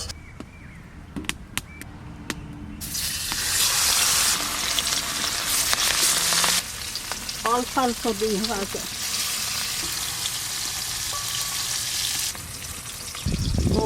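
Fresh hilsa fish fries in oil in a hot wok outdoors, a loud, dense sizzle that starts after a few quiet seconds and keeps crackling steadily, while a person speaks briefly and a bird calls in the background.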